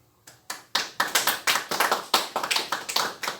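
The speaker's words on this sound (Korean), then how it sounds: "여러분 존경의 박수 보내야 됩니다" An audience claps in applause. About a dozen sharp, close claps fall in a slightly uneven rhythm after a brief quiet start.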